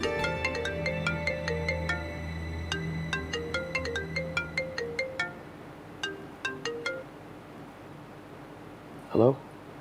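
A phone rings repeatedly with a bright, regularly repeating electronic ringtone that goes unanswered over a bed of background music, with the rings pulsing steadily for several seconds before stopping; a short louder burst follows near the end.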